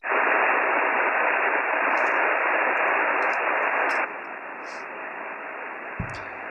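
Steady hiss of ham radio receiver static fills the air while an operator checks whether a frequency is clear, loud and unbroken, dropping slightly in level partway through, with faint ticks above.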